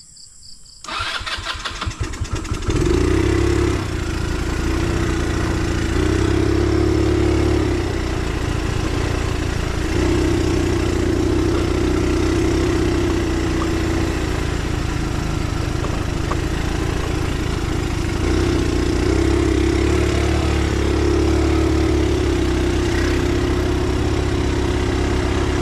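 A motorcycle engine starts at a rural building site and then idles steadily, loud and near, with a low throbbing drone that holds for the rest of the clip and no voices.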